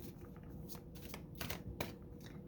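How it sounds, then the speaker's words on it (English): Tarot cards riffled and shuffled by hand in a quiet room, a run of soft papery flutters with a few sharper snaps as a single card is drawn out, close and alone. "pull one card for the watcher"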